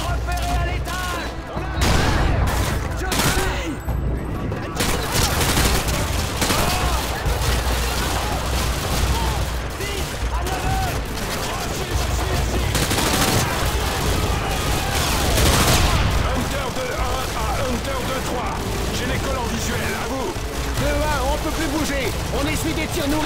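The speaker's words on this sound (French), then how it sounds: "On essuie des tirs nourris depuis l'école" Heavy gunfire in Call of Duty: Modern Warfare 2 as a battle rages: a dense, continuous roar of overlapping shots and blasts, loud and near, with voices talking throughout.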